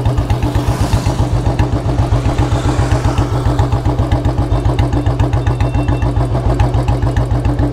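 Up close, a BS4 Bullet 350 motorcycle with a C-bend exhaust pipe and long punj thumps steadily and loudly at a fairly low, even rpm, its rapid regular exhaust beats continuing throughout with no talking.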